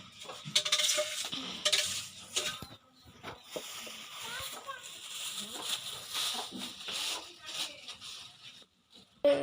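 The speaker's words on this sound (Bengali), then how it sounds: "এখন আমি শাক বসাইবো" Greens (shak) being put on to cook in a pot in a home kitchen, with clinking metal of pot and utensils, light scraping and stirring knocks in irregular bursts, close and moderately quiet, with talk in the background.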